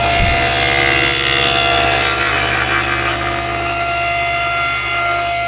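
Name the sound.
saw cutting off a box lid using a nesting box jig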